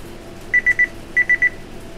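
A timer in The Walking Dead video game sounds two quick triplets of clean, high electronic beeps, the two groups separated by a short pause, set over a quiet low background.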